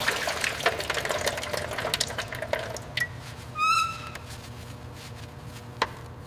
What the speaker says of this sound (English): We're draining the old fuel now.